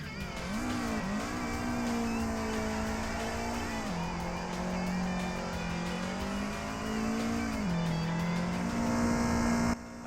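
Engine of a car in Assetto Corsa with modded gears revs hard and climbs through several upshifts, each pull rising in pitch then dropping, loud and continuous with no talking.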